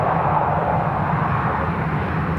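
A Ryanair jet departing Dublin Airport, its engines producing a steady, broad, rushing roar at moderate distance throughout the brief moment.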